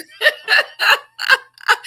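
A person hiccups five times in quick succession, each one a short, sharp, voiced catch spaced roughly evenly, close and loud with brief silences between.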